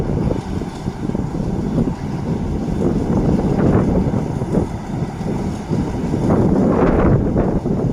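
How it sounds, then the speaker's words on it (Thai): Strong wind buffets the microphone at a rural railway station at Ban Khu Bua in Thailand, making a loud, continuous gusty rumble throughout. "โอ้ยลมแรงจริงนะครับ"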